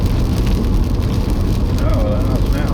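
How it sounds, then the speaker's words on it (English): Steady rain patters densely and continuously, loud and close over a low rumble, with a faint voice briefly audible beneath it. "It's a bit ropey out here with the rain, isn't it?"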